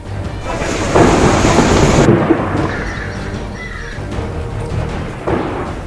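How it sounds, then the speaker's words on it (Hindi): Rumbling thunder rolls over steady rain, loud and booming at first, then fading into the downpour, with a crow cawing faintly. "तूफानी बारिश ने मचाई तबाही।"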